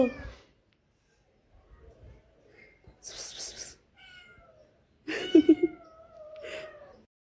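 A cat meows a few times close by, separated by quiet pauses, with soft rustles and a brief voice between calls.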